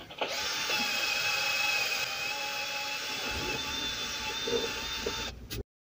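Cordless drill-driver fitted with a cleaning attachment scouring an axe head, a steady high whine with a grinding edge that runs for about five seconds before cutting off abruptly.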